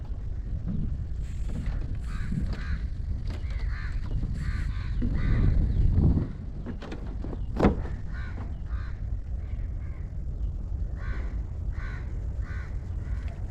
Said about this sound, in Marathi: खूप सारे पक्षी